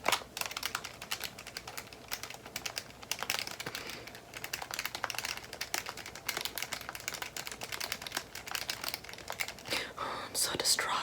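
Rapid irregular clicking and tapping of keys being pressed on a keypad, close and crisp, punctuated by small rustles, with soft whispering underneath.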